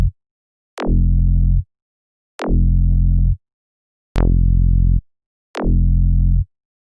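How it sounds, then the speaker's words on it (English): A sawtooth synth bass runs through a Kilohearts Disperser all-pass phase effect, playing four loud, evenly spaced notes. Each note starts with a smeared, chirping zap that sweeps down into a buzzy low tone. "it's kind of smearing out the frequencies of the bass note"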